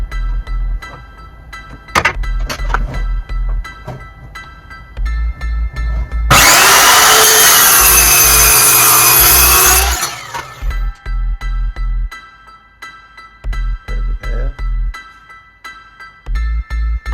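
A power saw cuts a wooden piece in half for a DIY iPad stand on a bar build: one loud, harsh buzzing cut of about four seconds stands out between quieter rhythmic thumping before and after.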